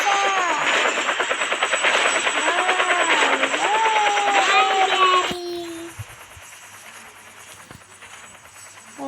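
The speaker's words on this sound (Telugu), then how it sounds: "పోతున్నాం ఫ్రెండ్స్ హెలికాప్టర్లో." A helicopter in the Roblox game, heard in-game during a prison escape, gives a loud, steady pulsing rotor drone with a whining tone that drops away abruptly about halfway through, leaving a quieter hum.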